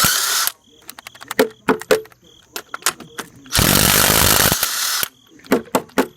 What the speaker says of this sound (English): And then remove your lug nuts.